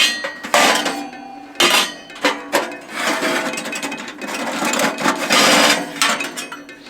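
Stainless steel chimney pipe sections for a cheap wood stove are pulled out of their box: close, irregular metallic clanks and rattles mixed with scraping and rustling.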